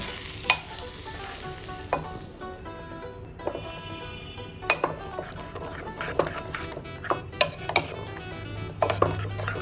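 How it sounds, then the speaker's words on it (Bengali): Hot soybean oil poured over sesame seeds in a bowl and stirred, giving a steady low sizzle with scattered sharp clinks of a spoon against the dish, close up and with no talking. "এখন দিয়ে দিব গরম করে রাখা সয়াবিন তেল"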